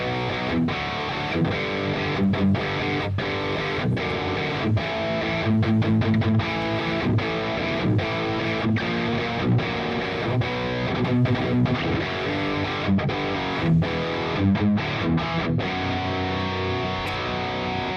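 High-gain electric guitar played through an Aurora DSP Cerberus amp sim, dense distorted chugging riffs with rhythmic palm-muted stops and steady loud sustain, heard alone without talk.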